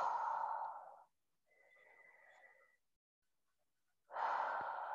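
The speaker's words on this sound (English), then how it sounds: "Deep breathing." Deep breaths taken while holding a yoga stretch in a forward-folded, upside-down triangle pose, heard as two loud, close exhalation bursts separated by a softer breath and a pause.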